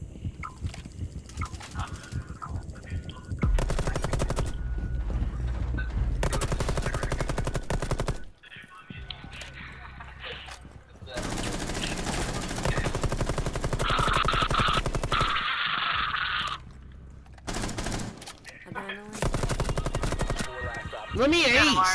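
Bursts of light machine gun fire in a first-person shooter video game, loud sustained volleys broken by short pauses, with players talking over the gunfire.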